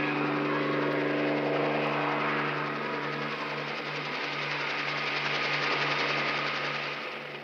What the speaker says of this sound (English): So a helicopter is delivering a statue of Christ to the Vatican.